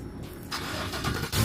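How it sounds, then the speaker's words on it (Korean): A GMC Yukon truck starts up, a short crank catching into a steady engine run, fairly close and alone with no talk. "시동이 걸려."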